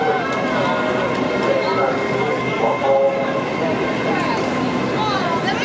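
An LNER Azuma train pulls away from a platform on its first day of service, a steady rumble and hum of the departing train heard close by, with talk over it.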